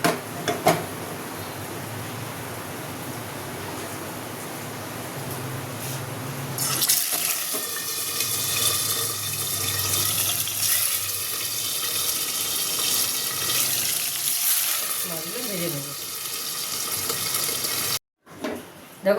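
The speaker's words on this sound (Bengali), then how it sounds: "এবার মাছগুলো ভেজে নেব" Pieces of rohu fish hit hot oil in a pan, and a steady loud sizzle and spatter sets in and keeps going, with a brief drop out near the end.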